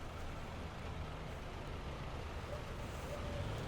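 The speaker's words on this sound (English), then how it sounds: "this is where I hear engine noises" A steady low tank engine rumble from the video game War Thunder, a Merkava 4M, drones throughout, a constant mechanical hum with faint higher tones drifting in near the end.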